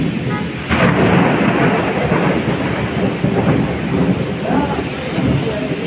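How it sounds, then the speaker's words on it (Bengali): Heavy monsoon rain pours steadily in Dhaka with rumbling thunder, a dense, loud, continuous wash of sound with swells of low rolling thunder throughout. "যা বর্ষপাত হইতেছে ভয়ই লাগে"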